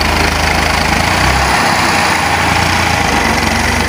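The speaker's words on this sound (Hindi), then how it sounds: "ट्रैक्टर वाले आ रहे हैं, आगे इन्होंने ब्रेक डाला हुआ है" An old Massey Ferguson 240 tractor, 1984 model, drones loudly and continuously nearby, its engine rumble steady and dense throughout with no voices over it.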